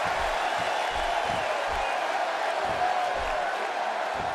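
A large arena crowd in the wrestling game WWE 2K16 roars in a steady, continuous wash of cheering and chatter, with low thumps pulsing underneath.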